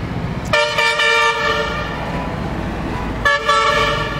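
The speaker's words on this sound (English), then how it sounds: "those trucks hooting, and it basically just goes on the whole night" Truck horns honk at night in a small town in Fujian, China: two long, loud, steady blasts separated by a brief gap, the second cutting in after about three seconds, with no voices.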